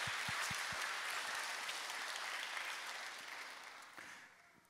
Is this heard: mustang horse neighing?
no